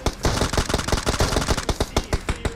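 Rapid bursts of automatic gunfire from the mobile battle-royale game PUBG Mobile, a fast loud rattle of repeated shots with a few sharper single reports, with no voices over it.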